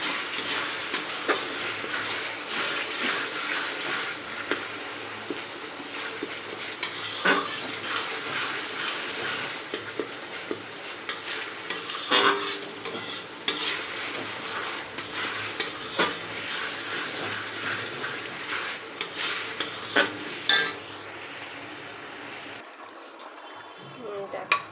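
Masala spices for mutton being stir-fried in a pan give a continuous sizzle, with a few scraping stirs through it and a brief pause near the end, and faint voices occasionally under the frying.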